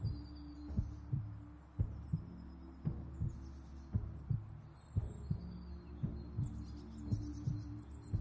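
A slow, steady heartbeat throbs low and close at roughly one beat per second under a soft hum, with no talking, as background to a guided meditation.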